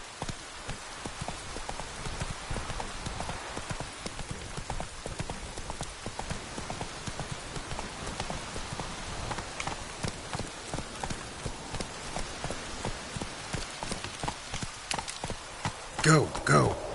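Hoofbeats of the horse Roach in The Witcher III, rapid steady galloping clip-clops over a soft rain-like hiss, with a couple of louder thumps near the end.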